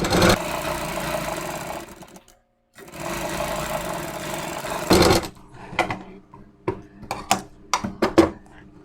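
Sewing machine stitching a net blouse, a close steady mechanical whir that pauses briefly, runs again, then breaks into short bursts and clicks.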